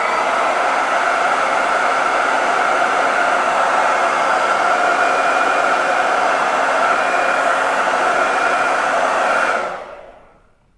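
A hair dryer blows steadily and loudly at close range while drying a Christmas chalk couture board, a constant airy roar that holds for about nine seconds before switching off and fading out.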